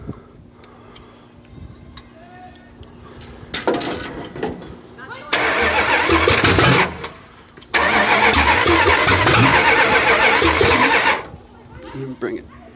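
A 1968 Dodge Charger R/T with a 440 V8 cranks and fires on its first start after a rebuild, then roars in two loud revving bursts before dropping back, close up, with a voice speaking briefly.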